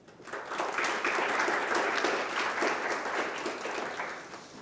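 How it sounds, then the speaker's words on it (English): An audience at a spring senior recognition ceremony applauds students, a dense wash of clapping that starts up quickly and holds steadily at a moderate, slightly distant level. "Please give these students a round of applause"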